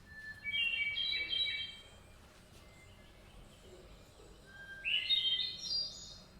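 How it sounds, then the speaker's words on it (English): A recorded song of a thrush resembling the Veery: two bright, fluting song phrases, the first near the start and the second near the end, each on a different pitch, clear against a quiet background hiss. "This bird looks the same as the Veery, but is a lot more famous because its song is like this."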